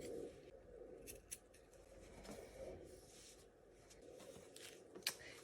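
Scissors cutting fabric pieces for a small sewing pouch, quiet close snipping and rubbing strokes at irregular intervals with one sharper snip near the end, no talking.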